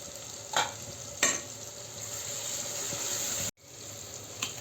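Pav bhaji cooking in a pan with turmeric and red chilli powder being stirred in, a low steady sizzle broken by a few sharp spatula scrapes and knocks.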